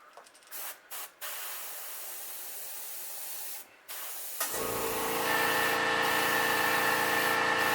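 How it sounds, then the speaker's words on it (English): Short bursts of aerosol spray, then a long continuous hiss of spray paint on a fishing lure, close to the microphone. "So I'm going to spray just on the top part of the bait at an angle here."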